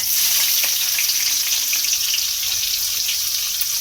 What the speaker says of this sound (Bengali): পেঁয়াজটা দিয়ে খুব ভালো করে ফোড়নের সঙ্গে এইভাবে একটু ভেজে নিতে হবে।